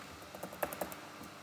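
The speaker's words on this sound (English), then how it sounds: "so I'm now typing the drop table command" Someone types a SQL drop table command on a computer keyboard, a quick, faint run of soft key clicks with a few louder taps, close by in a quiet room.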